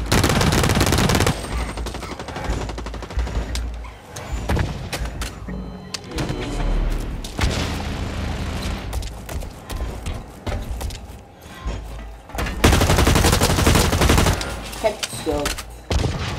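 Automatic and single gunfire bursts rattle through a Blacklight Retribution match, loud and dense, with short pauses between volleys and a brief stretch of in-game voice.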